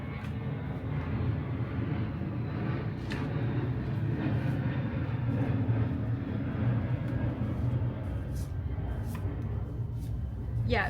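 An airplane flies overhead, heard as a steady, quiet, broad rumble that holds evenly for about eleven seconds with no talking.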